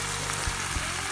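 Chopped tomatoes and tomato paste sautéing in a pan for an olive-oil zucchini dish, a steady close sizzle with a couple of soft low bumps from stirring.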